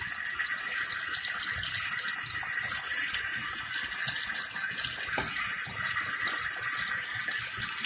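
Water runs steadily from a tap while a hand lathers a bar of soap, a constant splashing rush with small irregular spatters over it.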